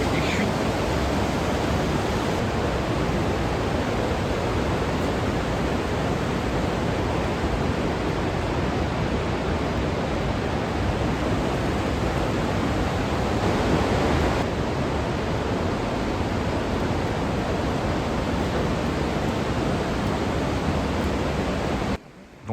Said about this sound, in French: Et donc là, vous avez des chutes.